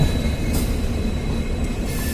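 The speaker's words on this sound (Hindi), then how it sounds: "हम लोग फाइनली अपने मंजिल पे 2362 किलोमीटर की जर्नी करने के बाद अराइव कर रहे हैं दिल्ली सराय रोहिल्ला" Premium express train pulling into Delhi Sarai Rohilla, a steady close rumble of wagons rolling over rails with faint wheel squeal, continuous and unbroken.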